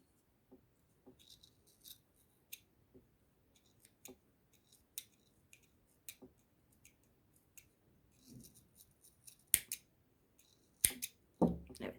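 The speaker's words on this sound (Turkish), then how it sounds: "Şöyle bağladığım yerin tam karşısını kesiyorum." Scissors snip yarn while a tassel shawl is made, with soft scattered handling rustles and a few quiet clicks, then two sharp, close cuts near the end; no one speaks.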